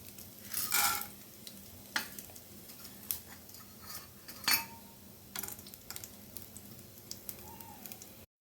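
Mustard seeds, chana dal, cumin, dry chillies and curry leaves tempering in a pan for uppu urundai: faint crackling spits and scattered sharp bursts with occasional utensil taps against the pan, fairly quiet and without voices.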